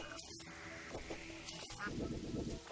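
A faint, brief quacking duck in the Terraria video game, soft and distant under low background game sounds.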